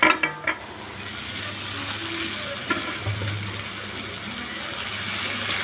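Chicken added to a pan of cooked spiced masala, with a few clattering knocks at the start, then a steady soft sizzle and frying hiss with occasional faint scrapes.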